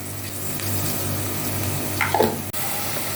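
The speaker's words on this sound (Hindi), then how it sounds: "अब मैंने इसके अंदर पानी ऐड कर दिया" Water poured into a cooking pot of oil, onions and whole spices such as bay leaf and black pepper while chicken pulao is made, a steady close pouring wash that swells briefly near the end.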